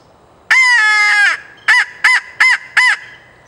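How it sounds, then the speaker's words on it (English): A Triple Tone TC87 crow call used as a turkey locator gives one long drawn-out caw followed by four short, evenly spaced caws, loud and close with nothing else behind it. "Later on in the day, switch over to the crow call."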